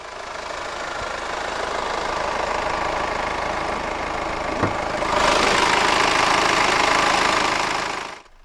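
A 2014 Kia Sportage with a 2.0-litre CRDi turbo diesel inline-4 idles steadily with a diesel clatter, close and fairly loud, growing a little louder and brighter partway through before cutting off at the end.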